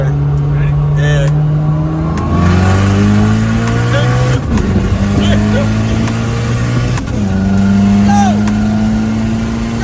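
A boosted 500 hp Honda Civic street car accelerating hard, its engine note climbing loud and near through several gear pulls with brief shift dips, as people talk over it inside the car.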